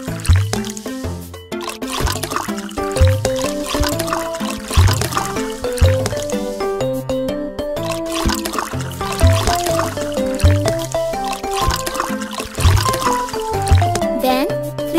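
In a kids' pet vet game, water rinses foam off a puppy with a steady pouring, trickling splash that runs under bright, busy background music.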